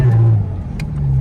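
A Porsche 718 Cayman GT4 RS engine revs loud and close, a deep throaty roar that dips briefly and then swells again, heard alone without talk.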